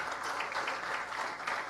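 An audience at a forum on capitalism, migration and social struggles applauds steadily, a dense wash of clapping from many hands that holds at an even level.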